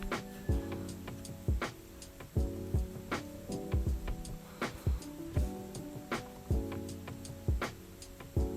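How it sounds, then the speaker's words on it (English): Sewing machine stitching the side seams of an Ankara gown, quiet rhythmic bursts of stitching with regular mechanical ticks, stopping and restarting several times. "So I'm going to be sewing my sides."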